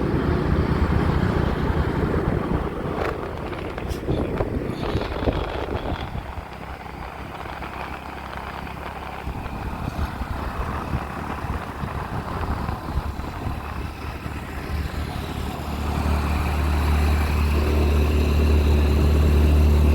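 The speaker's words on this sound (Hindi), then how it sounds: "यहाँ से चढ़ाई सख्त हो गई है तो गाड़ी की आवाज़ तब्दील महसूस हो रही है" A motorcycle carrying two riders climbs a steep mountain road toward Fort Monroe. The engine drones loudly and close with constant wind buffeting, its tone shifting as the climb steepens, and a deep, steady hum swells near the end.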